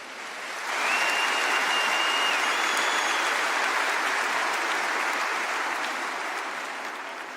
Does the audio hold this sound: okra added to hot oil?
no